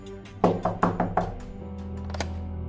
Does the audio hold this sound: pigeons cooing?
no